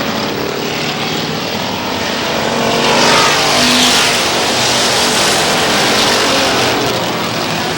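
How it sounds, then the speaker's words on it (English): Strictly stock cars racing at Star Speedway in New Hampshire: a loud, continuous roar of several engines that swells as the pack passes close by, with no talk. "here they come for 15 laps of strictly stock action"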